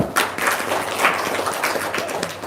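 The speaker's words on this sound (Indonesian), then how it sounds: "Tepuk tangan dong." Audience applause at a comedy show, a brief burst of dense clapping from a crowd at close range.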